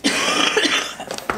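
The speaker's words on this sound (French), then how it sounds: "je suis désolée je tousse" A woman coughs a few times in quick succession at close range, loud and harsh, with no other sound around it.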